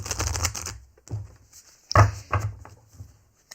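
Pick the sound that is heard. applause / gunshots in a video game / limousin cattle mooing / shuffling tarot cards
shuffling tarot cards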